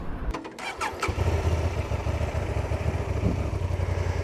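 A motorcycle engine starts after a few brief clicks, then settles into a steady, loud rumble close by for the rest of the clip.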